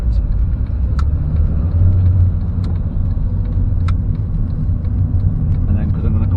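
A car engine rumbles low and steady as the vehicle pulls away from a busy roundabout, close and continuous, with faint road noise throughout.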